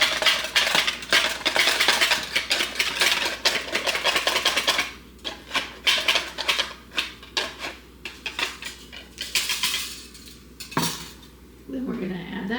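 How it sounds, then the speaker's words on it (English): A hand-cranked flour sifter rattles in rapid metallic bursts, close and loud, turning in uneven runs separated by short pauses, with a clunk near the end, and no one speaking. "my fancy dandy sifter"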